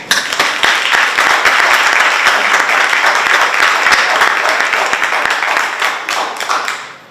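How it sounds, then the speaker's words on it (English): Ceremony audience at a Women's History Month proclamation event gives sustained, dense applause for state employees and social services organizations, steady and loud before tapering off at the end. "I'd also like a warm round of applause for all the state employees and social services organizations that are here with us"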